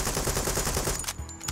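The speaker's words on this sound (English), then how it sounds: "that's me with the machine gun" Rapid machine gun fire in the tactical shooter game Door Kickers 2, a dense burst of rattling shots that stops abruptly after about a second, leaving a brief ringing tail.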